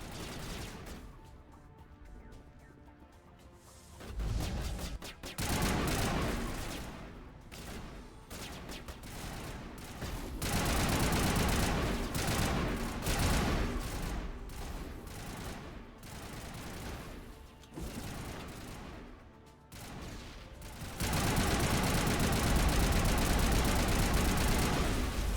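Sustained gunfire in Mass Effect, dense bursts of rapid shots that come in waves and grow heavier toward the end, loud and continuous with brief lulls.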